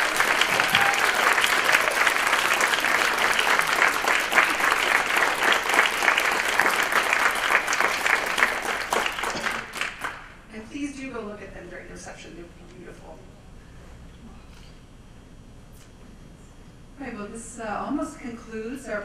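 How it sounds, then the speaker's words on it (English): Applause at the close of a Germany in Europe event rolls through a hall as a loud, dense round of clapping for about ten seconds, then fades out, and a speaker begins talking over the quiet room. "can we please give a round of applause to all of the"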